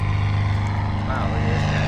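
A Beechcraft Bonanza airplane engine restarting after a stall, its propeller drone loud and steady with a deep harmonic hum under broadband roar, while people talk nearby.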